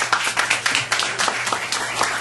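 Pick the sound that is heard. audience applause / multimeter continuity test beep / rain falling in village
audience applause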